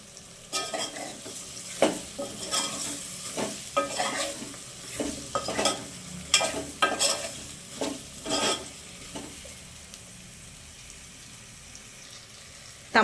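Mutton dalcha with chilli powder, green chillies, tomatoes and curry leaves is stirred in a frying pan, giving close, rhythmic scraping strokes over a steady sizzle. The stirring stops near the end, leaving the sizzle alone.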